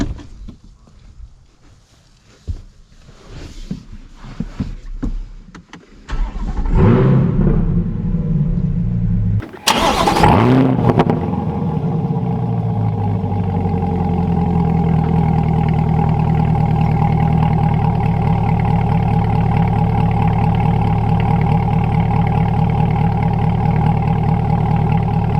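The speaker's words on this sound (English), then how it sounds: "let's take the C8 out and see how it drives" A modified 2020 Chevrolet C8 Corvette is started with a sharp crank and a loud catch, then settles into a steady, close, deep idle that drones on under light movement.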